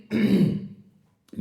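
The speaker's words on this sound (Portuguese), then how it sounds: "Me perdoe aí uma pigarrazinha" A man clears his throat once in a single harsh, rasping burst, close and fairly loud. It trails off into quiet, with the faint start of his voice at the end.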